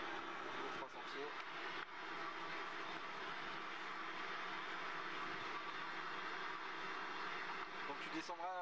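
Inside the cockpit of a small airplane in flight, the engine makes a steady, loud broadband drone that runs unbroken through the whole stretch.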